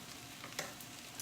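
Sliced chilies (rajas) soften in a hot pan with a quiet, steady crackling sizzle and a few soft stirring scrapes, low in level and with no talking.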